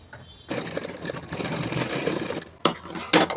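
A sewing machine stitching the collar of a suit, a steady whirring run of close stitching after a quiet start, followed by two short sharp bursts of sewing.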